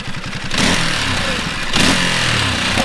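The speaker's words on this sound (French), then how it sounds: "Elle veut pas, la moto, elle veut pas faire de rupteurs." A 2025 Ducati Monster stands still while its engine is blipped, giving sharp rising revs and clattering mechanical bursts up close, the restricted engine refusing to hit the rev limiter.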